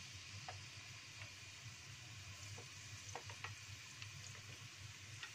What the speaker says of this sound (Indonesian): Udah agak panas ya guys ya, tuangkan bawang ya, bawang yang udah dicincang tadi ya